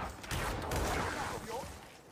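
Gunfire in the video game Gears of War 4 crackles in quiet, fast bursts of rapid shots that blend into a steady background rattle, with no one talking.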